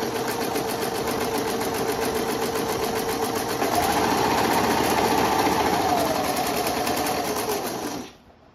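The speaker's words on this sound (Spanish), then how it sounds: "colocamos la tela debajo del prensatela y vamos a ver si no está cosiendo." A home sewing machine stitches fabric held under the presser foot, running as a fast, even mechanical whir for about eight seconds before stopping abruptly, with no talk over it.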